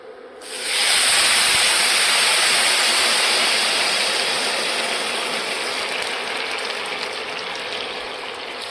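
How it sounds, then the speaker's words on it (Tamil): Water poured into ghee-roasted vermicelli for semiya kesari, a loud hissing, sizzling rush that bursts in within the first second and then settles into a steady, slightly fading boil. "இந்த டைமில் நம்ம கொஞ்சம் தண்ணி விட்டு வேக விடணும்."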